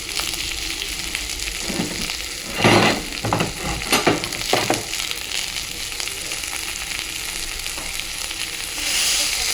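Aubergine pieces hit hot oil in a pan with a loud, steady sizzle, punctuated by several scraping stirs and clatters of the spatula, the frying hiss continuing throughout.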